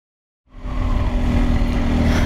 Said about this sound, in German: So, die ersten Meter auf dem Motorrad.